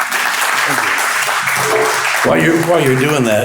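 Audience applause for a presenter at a business event, a broad wash of clapping running under a voice for a few seconds, then talk carries on.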